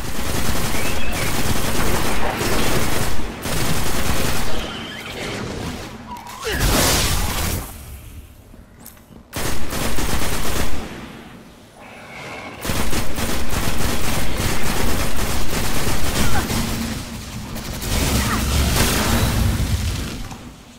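Heavy gunfire rattles through a firefight against enemies in the sci-fi shooter Destiny, with rapid automatic bursts, booming blasts and whooshes in loud clusters separated by brief quieter gaps.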